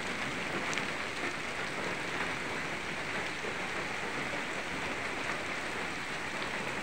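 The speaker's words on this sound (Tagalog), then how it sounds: "Naabutan tuloy kami ni Col ng ulan." Steady rain falls on a bamboo plantation, a dense, even hiss of drops on leaves and ground that stays constant throughout, with no talking.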